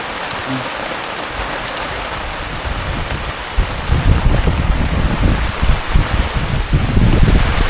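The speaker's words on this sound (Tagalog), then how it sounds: "Ayan na ang malakas na hangin." Loud, steady wind roaring and buffeting the microphone, with low rumbling gusts that grow stronger toward the end.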